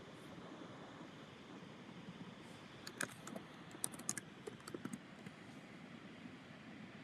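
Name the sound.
typing on a computer keyboard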